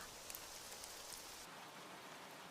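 Rain pours down in an anime scene, an even hiss of dense drops that stays fairly quiet and unbroken throughout, with no voices over it.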